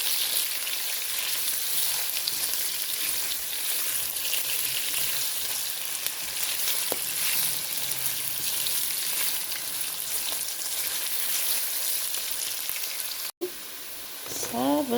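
Chopped onions sizzling in a pan after browned meat, a steady bright frying hiss with faint stirring scrapes throughout, ending in a brief clatter and a short voice near the end.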